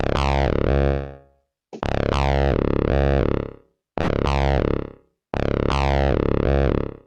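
Four sustained, buzzy synthesizer notes, each swelling and sweeping in tone before fading out, separated by short silences.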